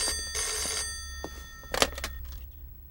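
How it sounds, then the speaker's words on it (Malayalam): A telephone bell rings in short bursts, close and clear, in a magistrate's home or office in a Malayalam film scene, with a faint background hum and no talk over it. "ഫോൺ ഞാൻ എടുക്കാം സാർ."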